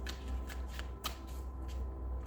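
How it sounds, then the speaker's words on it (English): Cards riffle and shuffle continuously at close range, a soft rapid flutter with no voices. "These are actually shuffling really well."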